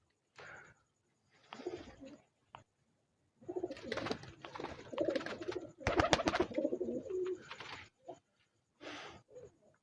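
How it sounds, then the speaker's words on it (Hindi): Soft, low coos from Sialkoti pigeons come in bursts, close by, with several birds murmuring over one another and short pauses between the calls. "ये हैं जी कबूतर"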